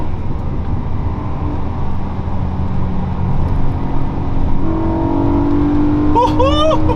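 BMW E92 M3 V8 accelerating through the gears, a loud, steady engine roar heard from inside the car, with a rising whine near the end.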